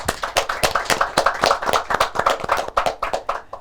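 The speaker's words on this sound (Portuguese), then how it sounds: "merece uma salva de palmas" A small audience at a tourism class in Angola claps at a quick, fairly even rhythm, each clap sharp and distinct, close and moderately loud for several seconds with no talk.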